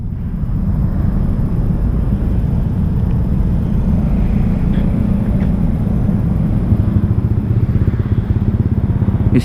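A Honda Vario scooter with an IACV sensor error after sitting unused, its engine running steadily at close range with a constant buzzing idle and slight rises, no voices.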